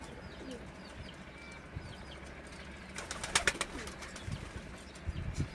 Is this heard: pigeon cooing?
yes